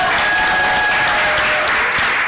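A church congregation claps together during a Sunday morning worship service, producing steady, dense applause from the whole room that lasts for a couple of seconds.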